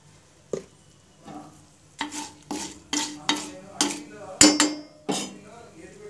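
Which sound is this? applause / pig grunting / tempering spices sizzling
tempering spices sizzling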